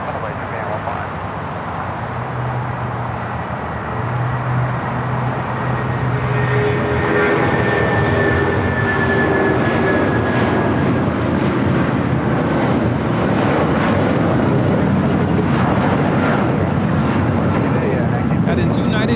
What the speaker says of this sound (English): That is United Airlines 1950 taking off to Newark on the 757-200.